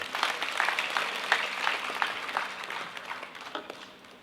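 Applause from a political party gathering for the BJP state president Ravindra Chavan, a dense burst of many hands clapping at moderate distance that gradually fades toward the end.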